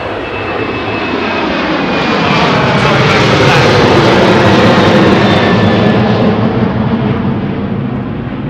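Douglas DC-3 piston engines at Anchorage, a loud sustained roar that swells as the plane passes close by and then holds steady, with no other sound standing out.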